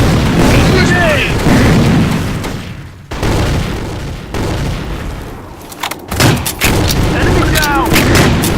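A grenade blast and rifle fire in the tactical shooter Insurgency Sandstorm, loud booming explosions and bursts of gunshots in close succession, with players shouting over the combat.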